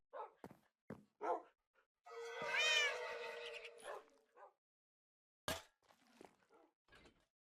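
A cat in the Minecraft video game gives a long, drawn-out meow with a few shorter calls and knocks around it, close and clear with no voices.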